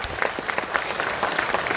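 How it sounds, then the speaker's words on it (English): Audience applause at a lecture event, a brief burst of steady, dense clapping from a crowd, moderately loud and without any voices. "I request audience to once again give a big clap"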